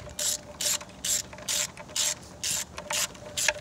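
A hand ratchet tightens bolts on a Chevy Cobalt during a spark plug change, heard as eight or so crisp, evenly spaced bursts of clicking, close and loud, with a faint steady hum beneath.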